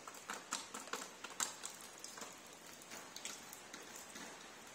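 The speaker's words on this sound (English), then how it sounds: "it looks like the rain is just coming in down there out of that gutting pipe into the factory." Rainwater spills from a gutter pipe into an abandoned factory, a faint steady patter with scattered sharp drips and splashes over a quiet hiss.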